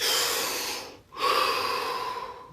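A deep breath taken during a guided session: a long, audible inhale, a brief pause, then a drawn-out exhale, close and breathy with no other sound.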